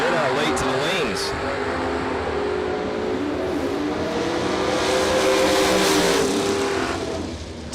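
Drag racing cars at the ACE Triple 20K bracket racing event roar loudly and continuously, engines droning and revving, while an announcer's voice carries over the noise.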